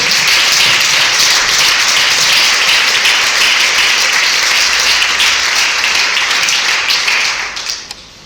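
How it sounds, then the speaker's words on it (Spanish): A congregation at Iglesia Vida gives loud, sustained applause to the Lord during a sermon, dense clapping filling the room for several seconds before it fades out at the end. "Dale un aplauso fuerte al Señor"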